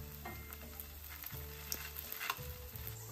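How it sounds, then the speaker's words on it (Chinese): Scallion pancake dough frying in oil on a preheated electric griddle pan, a steady close sizzle with scattered light crackles and ticks throughout, no talking. "放入我们擀好的葱花饼的生胚，上面再淋入适量的食用油锁住水分"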